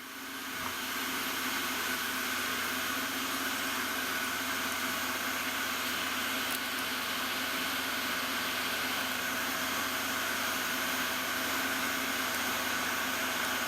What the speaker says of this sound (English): I'm using a carbide end mill, free flute, high helical cuts.